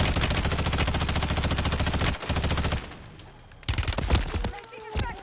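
Dense automatic gunfire from Warzone Rebirth Resurgence rattles loudly and continuously for about two seconds, then breaks into scattered shots and impacts, with game voice lines mixed underneath.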